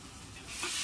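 Spice pastes with turmeric and Kashmiri chilli powder fry in oil, a faint, brief sizzle that swells louder toward the end.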